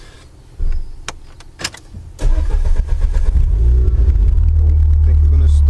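A car's engine cranks and catches, then settles into a steady, loud idle after a click and brief whirring of electrics, with a person speaking briefly nearby.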